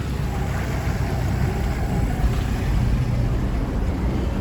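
A boat powered by a Mercury 120hp two-stroke outboard motor idles in toward a dock, a steady low engine drone and rumble with water wash, close and constant, no one speaking.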